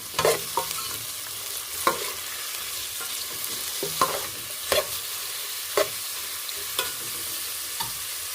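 Chopped onions frying in a pan for a fish and potato curry, a steady close sizzle broken by a spatula scraping and stirring about once a second, no voices.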